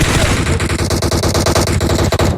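Loud, continuous rapid-fire automatic gunfire from the video game PUBG Mobile hammers out in dense bursts, close and dominant throughout.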